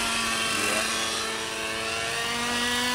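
Nitro-powered RC helicopter in flight, a steady loud whine with sustained rotor and engine tones, not at full throttle, running continuously without interruption.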